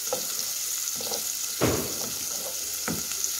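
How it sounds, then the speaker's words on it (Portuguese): Bacon frying in a pan for seasoned rice, a constant soft sizzle with a few brief scrapes and clinks of a utensil stirring, close and fairly quiet. "Tô aqui dando uma fritada no bacon."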